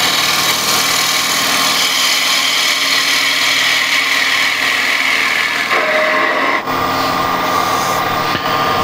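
A hand gouge carves the edge of a wooden box, its steady scraping running loud and close throughout, with a brief break near the end.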